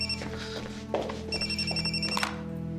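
A telephone ringing in a home, a faint electronic ring repeating twice over a steady background hum, with a soft thunk between rings.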